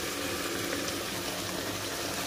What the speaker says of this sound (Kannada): ಮಿಕ್ಸಿ ಜಾರ್ಗೆ ಸ್ವಲ್ಪ ನೀರು ಹಾಕಿ ಮಿಕ್ಸ್ ಮಾಡಾಕ್ತೀನಿ